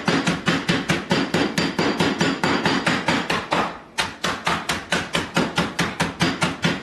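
Rapid, evenly spaced crunching thumps, about three per second, as Flamin' Hot Cheetos are pounded into pieces, with one brief pause midway.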